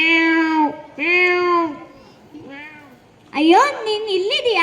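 A voice imitates a cat during a puppet show: a few drawn-out meows with a short pause between them, loud and close, followed by the same voice talking.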